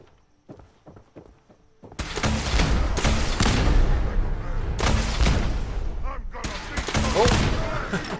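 Gunfire erupts in the video game Fallout 4, with a few quiet thuds giving way to loud, dense bursts of shots and impacts that continue, broken by a brief lull.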